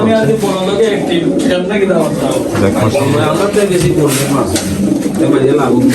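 Racing pigeons coo near and loud while being given water, a dense flock murmur running steadily throughout, with voices talking intermittently over it.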